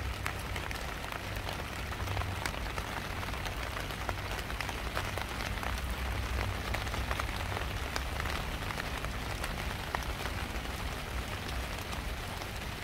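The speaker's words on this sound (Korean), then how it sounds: "이 빗소리 들으시면서 힐링도 해보세요." Steady rain falling and pattering on surfaces, a dense continuous hiss with scattered close drips and a low rumble underneath, no voices.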